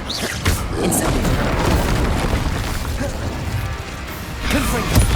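The Incendio fire spell in Hogwarts Legacy is cast amid loud booming, crackling bursts and crashes, dense and continuous with a few sharp hits, with a voice speaking briefly over the blasts.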